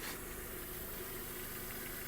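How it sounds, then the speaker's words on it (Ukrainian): A Volkswagen Touran with a 1.6 MPI petrol engine idles with a steady, even hum from close by, with no talking over it. "Двигун працює чітко."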